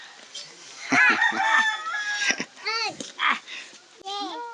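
Chickens cluck and a rooster crows repeatedly close by at a farmstead in San Agustín, Huila, Colombia, with voices talking over the birds.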